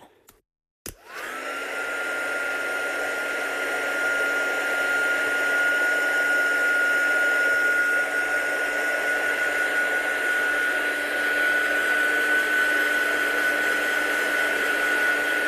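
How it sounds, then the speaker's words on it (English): Heat tool drying wet paper for a resist heat embossing craft technique, switched on after a click and then blowing as a loud, steady, high-pitched whine that runs unbroken to the end. "Let's just dry this off."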